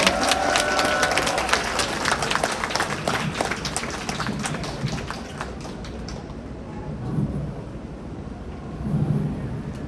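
Audience applause and crowd noise fill a hall at Incheon Airport Terminal 1's Millennium Hall, welcoming a singer onstage, sustained and dense through the first half, then thinning to scattered clapping with lower murmur.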